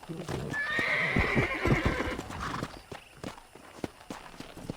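A horse in Red Dead Redemption lets out a loud, drawn-out neigh near the start, then its hooves clop along unevenly, close by, under game ambience and a voice talking.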